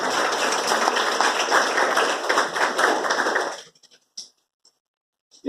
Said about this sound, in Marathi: त्यांनी अशा शिक्षकांसाठी जरूर टाळ्या वाजवाव्या